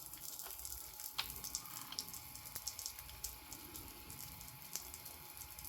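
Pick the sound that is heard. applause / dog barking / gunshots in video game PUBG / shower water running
shower water running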